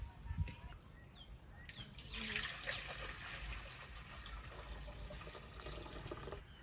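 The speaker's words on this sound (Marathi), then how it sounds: "आपलं पाणी पण तापले आता मी ते दुसऱ्या पातेल्यात काढून घेते" Hot water pours and trickles into another pot, a soft, steady splashing with faint kitchen clatter, while village-style chicken curry is cooked on a wood-fired stove.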